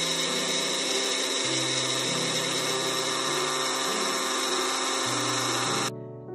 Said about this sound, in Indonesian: Untuk bikin whipping cream foamnya, saya pakai blender.